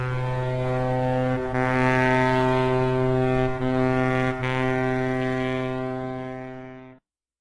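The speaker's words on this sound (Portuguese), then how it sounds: "Ouvíamos agora longos apitos de uma grande embarcação." A large ship's horn sounds in long, deep, sustained blasts, loud and resonant, briefly dipping twice before fading out.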